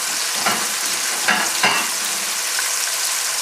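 Vegetables cook over a high flame in a pan, a steady, dense sizzle with three short stirring scrapes, close up and without speech.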